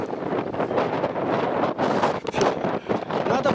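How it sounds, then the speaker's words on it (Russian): Cold northern wind gusts past the microphone beside open water near a boat, a rough, buffeting roar that swells and dips unevenly over a few seconds. "Ветер, да, ну, все уносит, все тепло."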